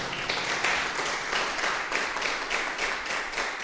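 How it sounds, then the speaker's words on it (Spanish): Members of a church congregation applaud the Lord at the close of a prayer in a Spanish-language service, a moderate round of clapping with rhythmic surges that holds steady throughout. "Denle un aplauso al Señor."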